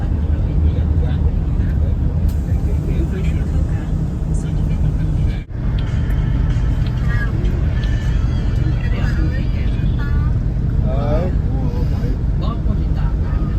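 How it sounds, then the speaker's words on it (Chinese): Steady traffic rumble of local tuk-tuks and small cars picking up tourists at the Moc Bai border crossing into Cambodia, continuous engine and road noise with someone talking over it. "这边好多柬埔寨的当地的突突车呀、小汽车在这边拉游客"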